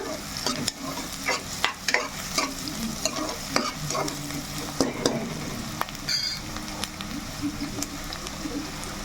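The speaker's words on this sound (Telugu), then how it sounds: "ఉల్లిపాయ ఎలా ఎంత ఎర్రగా వేగితే అంత టేస్ట్ వచ్చింది" Onions fry and sizzle in a pan for a Rayalaseema-style chicken curry, with frequent scraping stirs and spatula taps over a constant crackle.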